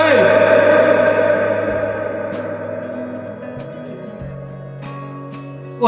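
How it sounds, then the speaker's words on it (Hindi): A voice echoes repeatedly inside the polished rock-cut Barabar Caves, ancient granite chambers in India, its tones ringing on in a long, layered reverberation that slowly decays across several seconds, with a sharp new sound near the end. "लगभग 10 से ज्यादा बार आवाजें गूंज रही है।"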